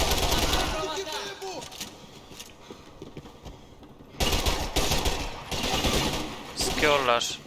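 Bursts of gunfire from the video game Max Payne 3 crackle in rapid volleys between quieter stretches, with game sounds filling the gaps.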